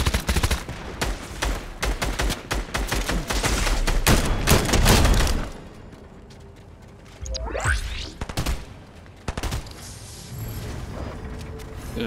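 Shotgun fire in an online shooter game, loud booming blasts packed into the first five seconds with rattling mechanical clicks, then a quieter stretch with a sweeping whoosh and scattered shots.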